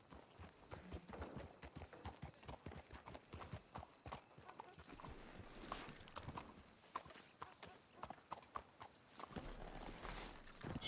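Steady clip-clop of horse hooves walking in the video game Red Dead Redemption 2, with occasional snorts and low voices mixed in, continuous and close throughout.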